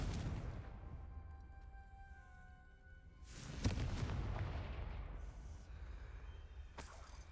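A Confringo fire spell blast in the Hogwarts Legacy video game, one sharp booming burst midway that trails into a crackling rumble, followed later by a second short crack, fairly quiet against a low background.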